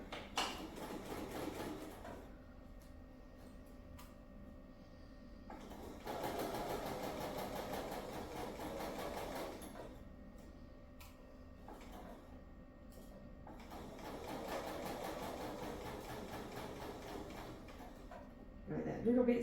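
A domestic sewing machine stitches a quilt block seam in several runs of steady whirring, with quieter gaps full of small clicks and handling noises, and a low voice speaking now and then.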